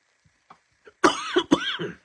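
Someone coughs close to the microphone: a few faint throat sounds, then two or three harsh, loud coughs in quick succession, with no talking.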